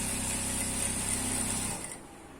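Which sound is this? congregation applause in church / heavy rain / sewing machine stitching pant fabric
sewing machine stitching pant fabric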